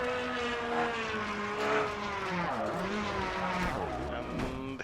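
Rally car on a stage of the Székesfehérvár Rallye, Eastern European Rally Championship round 8: a loud, continuous engine drone with shifting pitch as it revs and changes gear, close and prominent throughout.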